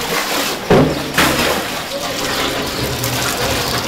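City workers draw water from a well in a park in Cuba. Loud, steady rushing and splashing water fills the whole span, with a couple of sharper splashes early on and indistinct voices mixed in.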